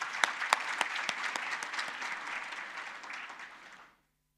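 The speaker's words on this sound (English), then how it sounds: "Let's give her another round of applause." Conference audience applauding at an opening ceremony, a round of many clapping hands with distinct sharp claps early on, gradually thinning and fading out after about four seconds.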